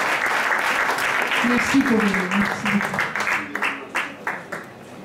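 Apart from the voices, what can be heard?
audience applause after a song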